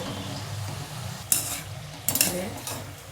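Masala shankarpali deep-frying on a low flame, a constant bubbling oil hiss punctuated by a few bursts of louder crackle and metal utensil clinks.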